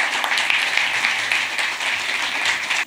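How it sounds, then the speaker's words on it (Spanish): Applause from the audience at a public announcement event about an urban transformation zone, a full, even roar of clapping held at steady loudness that cuts off abruptly at the end, with no voices over it. "Un aplauso, por favor."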